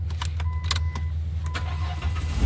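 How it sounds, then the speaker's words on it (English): A 2006 Dodge Grand Caravan's engine cranks and starts, a steady low rumble with a few brief clicks and rattles over it, close by and with no talk. "so we're going to turn the car on. I'm actually going to start it"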